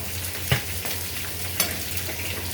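Fried giant freshwater prawns sizzling steadily in a pan of spice paste during a bhuna, with a couple of sharp stirring clinks over the constant hiss.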